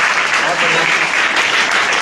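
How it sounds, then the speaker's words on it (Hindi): A crowd at a student quiz competition applauds a student, a loud, dense burst of clapping close by, continuous for two seconds with voices mixed in beneath it. "तालियां भाई उस बच्चे के लिए बजाइए आप लोग।"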